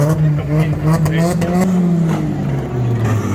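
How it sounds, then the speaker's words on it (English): Pro stock banger racing cars roll out onto the track at Lochgelly Raceway in Scotland, engines droning loudly and revving with shifting pitch, while a voice talks over the noise. "It's heat 2 for the back to basic pro stocks coming out on track now."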